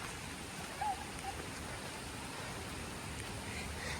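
Rain falls steadily on a forest path in Ubud, Bali, a continuous, even hiss of drops with no talking.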